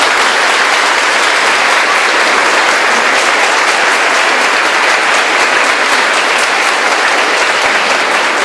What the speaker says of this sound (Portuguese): vamos acolhê-lo com grande salve de palmas